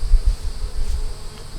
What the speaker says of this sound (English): Got some bees walking.